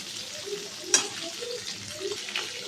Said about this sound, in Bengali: একটু নাড়িয়ে দেবো যাতে তেলগুলো সব পনিরের গায়ে লেগে যায়।